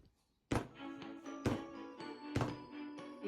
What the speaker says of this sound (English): Now I'll bang it slightly on the countertop.